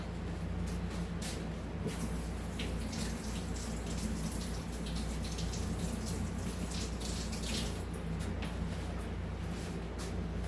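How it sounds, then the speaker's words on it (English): Hands being rinsed under a running kitchen tap while a cheese-and-sauce casserole is prepared, a steady, even rush of water flowing without a break for about ten seconds, with no talking. "Let me wash my hands right quick."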